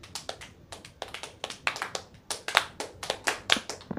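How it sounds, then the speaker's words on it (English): A group claps in a trash-themed intro in a bedroom, a ragged series of sharp, close hand claps spread unevenly across the stretch, with no talking over them. "clap it up for the trash intro"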